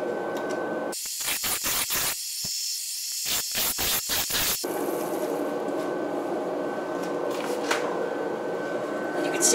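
A blade shaves curly strips from a wooden wand being carved, making a quick run of close, raspy scraping strokes. Quieter background hiss follows once the cutting stops.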